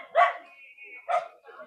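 A dog gives two short barks close by, separated by a pause, with a faint thin tone and light background sound between them at a home birthday visit.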